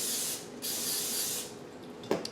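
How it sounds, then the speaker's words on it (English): Cooking spray hisses onto a knife between cuts of sticky pumpkin scone dough, two close, steady bursts of spray and then a light knock at the end, with no talk. "in between each cut, I am going to spray it again because this is a sticky, sticky dough"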